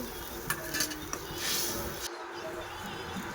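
Spice paste and prawns fry and get stirred in a pan for a chili-capsicum prawn dish, a soft continuous sizzle with scraping spoon clatter and light metal knocks against the pan.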